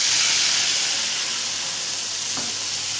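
Water poured into a hot pan of tempered spices makes a loud, steady steam hiss and sizzle close by, constant throughout with a faint scrape near the end.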